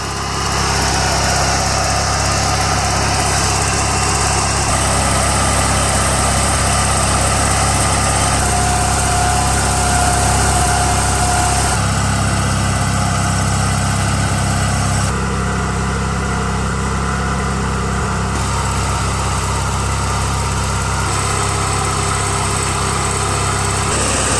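Toro 616Z zero turn lawn mower engine running steadily at close range, a loud continuous drone with no voices.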